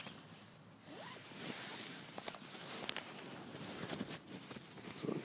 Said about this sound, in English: let's see if we unzip this